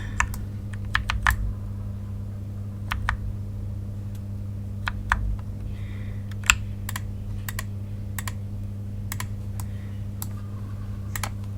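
Typing on a loud computer keyboard: irregular bursts of crisp, clacky keystrokes, some in quick clusters and others spaced apart, up close over a steady low electrical hum, with no talking.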